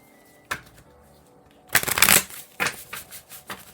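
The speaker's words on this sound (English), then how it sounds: "So I want to pull some cards from the Sacred Soul Portal." Oracle cards from the Sacred Soul Portal deck being shuffled by hand, with a few soft riffling bursts, one longer and louder flurry in the middle, then quicker light shuffles, close and clear with no talking.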